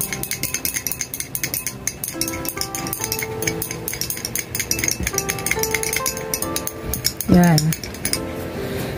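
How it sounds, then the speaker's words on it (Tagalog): A spoon stirs a homemade methyl salicylate liniment mixture in a glass container, giving repeated light clinks and taps while someone talks over them. "Haluin lang natin mabuti para matunaw."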